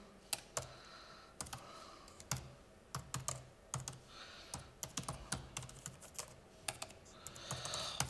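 Fingers type on a computer keyboard in quiet bursts of clicking keystrokes, some quick runs and some single taps, close and fairly soft with no talking.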